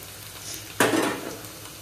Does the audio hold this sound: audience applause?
no